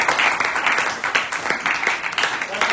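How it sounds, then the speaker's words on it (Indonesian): Classroom applause for a student group after their presentation, a steady burst of clapping from a small audience with some voices mixed in. "sekali lagi kita berikan aplaus buat kelompok 6"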